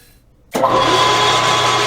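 A drill bit pilot-drilling into a plastic frame slider part for a Kawasaki Z900RS on a lathe, a steady loud machining whir that starts abruptly after a brief quiet moment and holds constant to the end.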